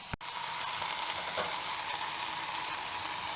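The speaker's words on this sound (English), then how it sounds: "Now add the masala paste and the tomatoes and fry." Masala paste and tomatoes fry in a pan with a steady, close sizzle that holds evenly throughout after a brief knock at the start.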